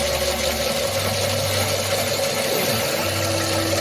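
A machine reams a hole through metal held in a vise while making a part for a model steam engine, giving a steady mechanical drone with a low hum that drops out briefly and then returns.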